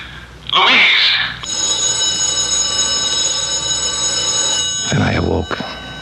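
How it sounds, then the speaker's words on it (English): A telephone bell rings in one long continuous peal, framed by a voice talking just before and after it. "the telephone was ringing"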